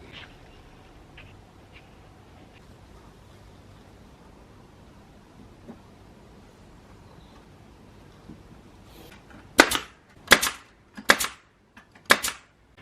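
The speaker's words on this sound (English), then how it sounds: "use the brad nailer to attach them together so it makes a really nice snug frame for our sign" Brad nailer driving nails into a wooden sign frame: five sharp, loud pneumatic shots in quick succession near the end, after a stretch of quiet workshop room noise.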